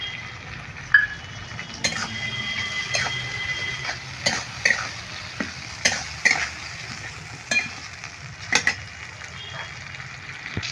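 A ginger, cumin and dried chilli paste fries in a pan under a constant sizzle while a utensil stirs and scrapes, giving sharp metallic clicks every second or so.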